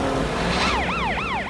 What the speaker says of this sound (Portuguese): O caminhão de bombeiro Frank precisa de ajuda para apagar o fogo